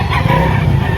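Chickens and a rooster at the Padre Garcia livestock auction market in Batangas fill a brief, dense burst of clucking and crowing, loud and close, with no talking.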